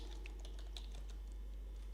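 Typing on a computer keyboard, with scattered key clicks in an uneven rhythm, faint and close against a steady low hum.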